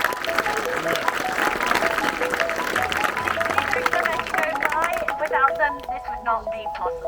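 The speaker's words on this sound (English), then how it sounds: "Applause to our volunteers." Parkrun finishers give the volunteers a warm round of applause, dense steady clapping from a small outdoor crowd that thins and fades toward the end, with voices chattering underneath.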